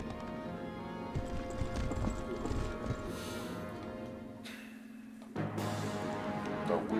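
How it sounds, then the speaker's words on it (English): Horses' hooves clip-clop in Fire Emblem: Path of Radiance, a steady run of hoofbeats mixed with the game's tonal music and effects that carries on throughout. "Oh lord, these dudes are on horseback."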